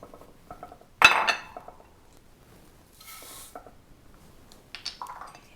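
Rice, garbanzos, a bay leaf and salt stirred together in a casserole dish, heard as scattered soft clinks and scrapes of a utensil against the dish, with one louder knock and a brief rustle, close and quiet.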